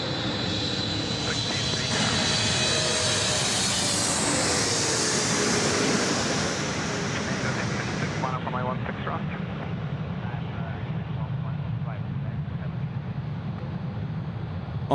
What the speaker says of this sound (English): our Thai Airways friends are coming in now for finals, runway 16 right